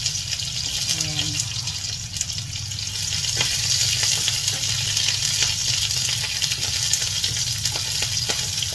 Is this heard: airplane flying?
no